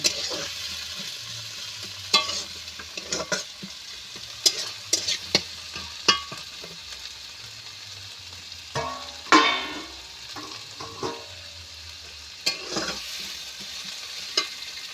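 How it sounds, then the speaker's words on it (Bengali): Chopped garlic and green chilli frying in hot oil for chana masala, a soft continuous sizzle punctuated by intermittent spatula scrapes and knocks against the pan, close up with no voices. "রসুন কুচি দিয়ে আমি ভালো করে এইভাবে ভেজে নেব"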